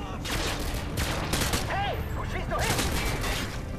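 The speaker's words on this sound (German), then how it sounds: "Ich schieße auf den Feind." Rapid bursts of gunfire in Call of Duty Modern Warfare 2, loud overlapping shots and booms crowding together in a chaotic firefight, with faint voices in the mix.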